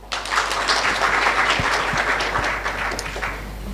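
Continuous applause from a crowd at a scientific health-university conference, many hands clapping together in a thick, even roar that starts abruptly and stays full before easing slightly near the end.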